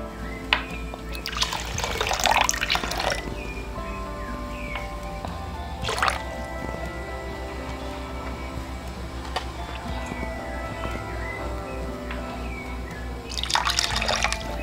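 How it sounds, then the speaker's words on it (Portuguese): Water poured into a cooking pot for rice, in a home kitchen. It makes a steady, continuous trickle lasting many seconds, with a few louder splashy bursts near the start, middle and end. No one speaks. "Coloco a quantidade de água recomendada pelo fabricante"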